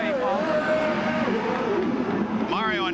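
A 1991 CART Indy car at the Long Beach Grand Prix accelerates out of the pits, its engine whining and rising in pitch near and loud, under a commentator's voice.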